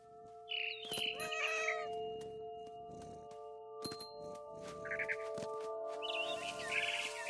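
A cat meows a few times in the video game What Remains of Edith Finch, with high bird-like chirps and a steady musical tone underneath, moderately loud and close.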